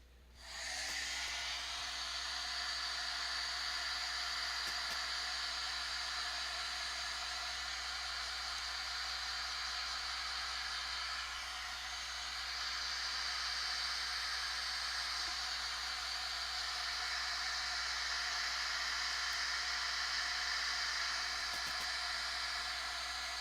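A heat tool blows air across a card, a steady close whooshing hiss with a high whine that runs unbroken from start to finish, with no talking.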